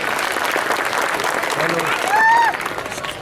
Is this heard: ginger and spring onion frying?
no